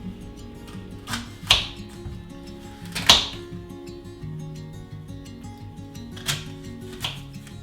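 Hard raw quinces being cut with a knife, a few separate sharp chopping strikes on a board spaced over several seconds, close and fairly crisp over a steady low background hum.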